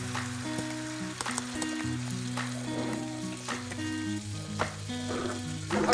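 Parsley, basil and oregano fry in butter in a pan for homemade lasagne, making a constant close sizzle with light stirring, while a musical tone sounds underneath.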